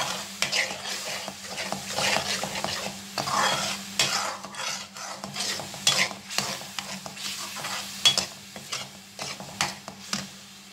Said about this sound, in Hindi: अच्छे से हम भून के मसाला रेडी करेंगे